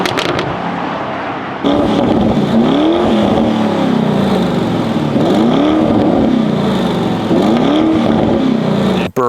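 A Lamborghini Urus Performante SUV's 700 hp engine burbles and crackles with exhaust pops through a sports exhaust, rising and falling in repeated revs, loud and close throughout.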